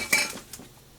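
A metal pressure canner lid is locked into place on a canner of smoked pork, two quick bright metallic clinks close by, the second softer, with no talking.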